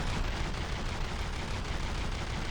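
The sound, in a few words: ship weapon systems firing, From The Depths video game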